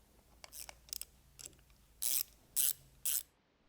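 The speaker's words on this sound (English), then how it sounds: "Tighten the set screws in the front cover." Set screws being tightened on the front cover of a ROTAN gear pump during an overhaul: a few soft mechanical clicks, then three loud, evenly spaced bursts of ratcheting close up, with no voices.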